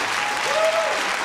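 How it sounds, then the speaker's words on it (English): Brief burst of loud, close applause from an audience at a school Black History celebration, clapping for the Black History Club students, steady for about a second with a short tone in the middle. "Let's give them another round of applause"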